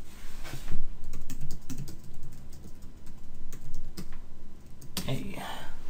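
Typing on a computer keyboard while testing a networking setup between two computers, a rapid, close series of key clicks running steadily for several seconds with a faint voice murmuring underneath.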